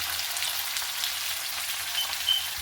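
Ginger, garlic and green chilli sautéing in a pan give a steady, close sizzle and crackle of frying, continuous throughout with no talking.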